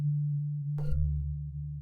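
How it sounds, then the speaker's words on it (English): A Zimbira sample run through the Omnisphere synthesizer's granular engine: a steady low droning tone with a short bright, crackly burst partway through, after which the sound continues as a thicker, shifting hum. "So let's switch on the Granular engine."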